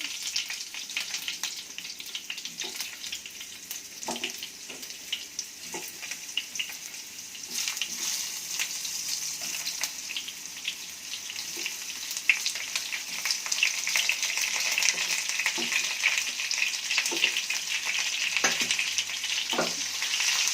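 Stuffed ridge gourd pieces with masala fry in a pan on a low flame, giving a steady bright sizzle throughout, broken by scattered soft scrapes and clinks as the pieces are stirred.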